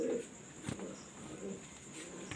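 Caged pigeons with babies give faint, low coos in short bursts at the start and around the middle, quiet and somewhat distant under soft background noise.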